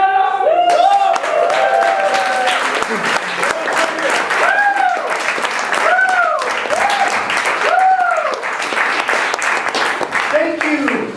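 A club audience at a band's Thursday-night show claps continuously while several voices whoop and cheer in rising and falling shouts, loud and close throughout.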